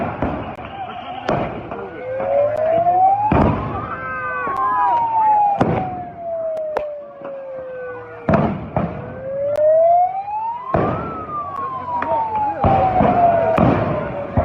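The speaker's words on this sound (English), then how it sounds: "you don't realize how many flashbangs were deployed" Police flashbang grenades go off during a street crowd dispersal: several sharp, loud bangs at irregular intervals, while a siren wails, rising and falling, throughout.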